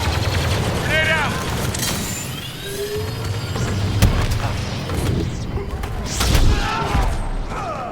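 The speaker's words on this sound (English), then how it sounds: "Grenade out!" A grenade explosion amid a Star Wars Battlefront 2 battle on Hoth, with booms and rapid blaster fire layered over dense combat noise and shouted voices throughout.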